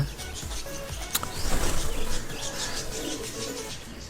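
Budgerigar lovebirds in a cage make a busy mix of chirps and soft twittering over a noisy background, with a brief flutter and louder calls partway through.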